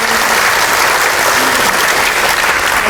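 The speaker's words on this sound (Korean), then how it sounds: "박수 한 번만 주시겠습니까?" Audience applause fills a smart city conference hall in Jeonju, a dense, steady wash of many hands clapping at close range, loud and sustained throughout with no talk over it.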